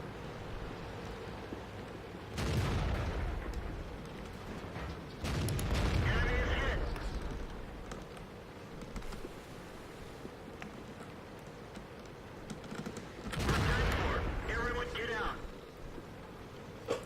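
Heavy tank cannon shots in World of Tanks fired by an A-44 Russian medium tank, three booming blasts spread across the clip over a constant engine rumble, with someone talking throughout.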